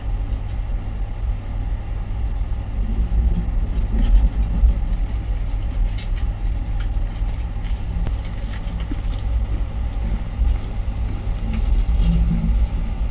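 Slow local train running alongside near Diva station, a continuous low rumble with scattered rattles and clicks, steady and close, with no voices.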